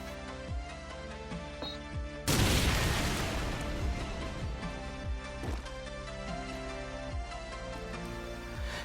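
A grenade goes off in Call of Duty 4 on the District map, one loud close blast that rolls off into a long rumbling tail over quiet background game noise.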